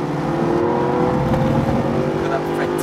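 A Mercedes SLS AMG GT accelerates on a race track, its engine a loud, continuous, rising roar with climbing harmonic tones and no pauses over the whole stretch.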